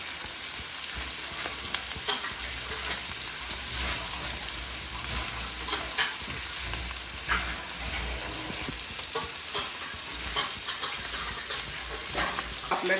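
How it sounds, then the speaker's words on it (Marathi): A pot of fresh pomfret (paplet) fish curry gravy bubbles at a rolling boil close by. A continuous crackling sizzle with small pops runs steadily throughout, and no one talks. "रस्स्याला पण उकळी सुटलेली आहे"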